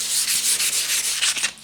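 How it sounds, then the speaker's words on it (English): Wet sandpaper rubs back and forth across a plastic headlight lens in steady horizontal strokes, a close, continuous hissing scrape that pulses evenly with each pass, with no talking. "we're gonna do a horizontal type of sand, just to get it all nice and done with"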